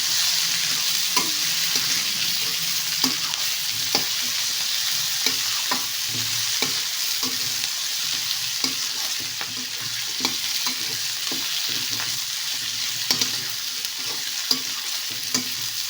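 Curry leaves fry in hot oil in a pan, a constant sizzle broken by repeated clinks and scrapes of a utensil stirring, close and clear with no voices.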